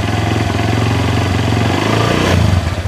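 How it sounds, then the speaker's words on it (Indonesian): A Honda CB Verza motorcycle engine runs loudly, then sputters and stumbles as the throttle opens, with delayed, hesitant response and an uneven revving burst near the end. "Tapi kalau kita tarik gas, nah, udah nih, nah berebet ini."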